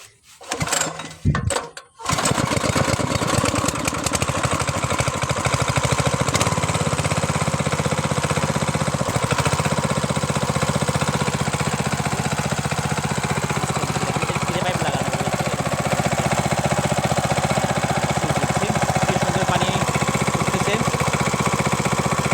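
A petrol-powered water pump engine starts with a few rough coughs, then settles into a loud, continuous, steady running drone close by for the rest of the clip.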